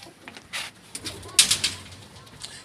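A pigeon gives faint, soft coos, with a few light, brief rustles mixed in against quiet surroundings.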